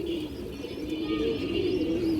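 A domestic pigeon coos close by in a low, continuous rolling call that swells slightly in the middle, with faint chirps from other birds in the background.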